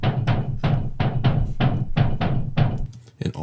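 Dry, punchy techno bass synth hits repeating in a steady rhythm, short noisy stabs with a strong low end and no reverb tail.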